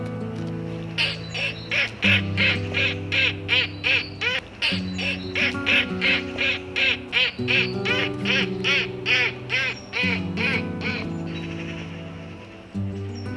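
A man imitates ducks with his voice, producing a fast run of loud, nasal quacks in regular bursts over a steady tonal musical backing.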